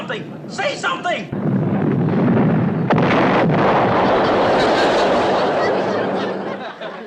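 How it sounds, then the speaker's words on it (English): A boat takes a direct hit: a heavy explosion erupts after brief laughter-like voices, then a long, loud rumbling roar sustains and slowly fades. "That sounds like a direct hit."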